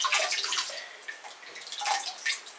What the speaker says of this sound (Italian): inumidisco solo un po' il pennellino in acqua tiepida.